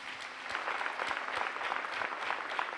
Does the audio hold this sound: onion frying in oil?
no